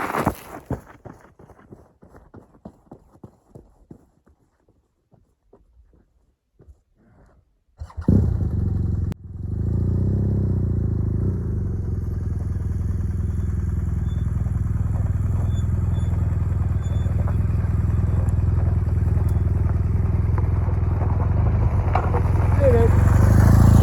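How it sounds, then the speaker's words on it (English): A motorbike ridden solo through Colombia clatters over rough ground, and then its engine rises to a loud, steady drone that carries on to the end while heading downhill. "So there's the bike. Now we just have to go down this baby."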